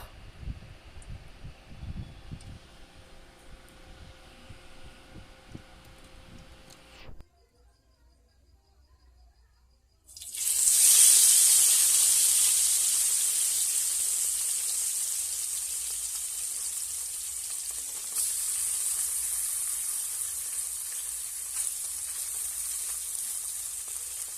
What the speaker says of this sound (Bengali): প্রথমে মাছগুলোকে ভালো করে ভেজে নেব।